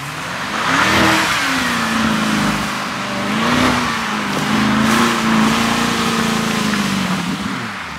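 A car moves through a California winter storm, its engine loud and close with revs rising and falling under a constant roar of broadband wind and road noise.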